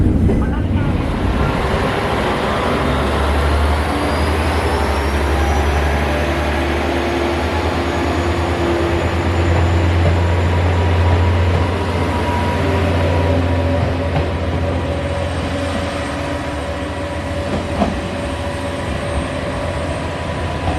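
A train runs at a Japanese station, a sustained low rumble with a long rising whine, steady and fairly close throughout.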